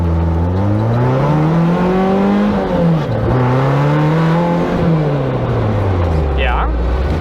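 A Toyota AE86 with upgraded rear springs accelerating through a corner, its engine note climbing and dipping through several rev swells, loud and close from inside the car.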